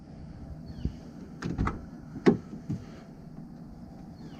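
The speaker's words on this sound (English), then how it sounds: "we'll start by opening up the door on the passenger side here" Passenger door of a 2004 Honda S2000 being opened: a few soft latch clicks and a dull thunk close by, with brief handling knocks afterward, fairly quiet overall.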